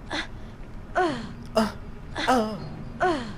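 Repeated sneezes from a character in the Harry Potter and the Chamber of Secrets video game: five short sharp bursts about a second apart, each with a rising voiced squeal, fairly loud and without talk over them.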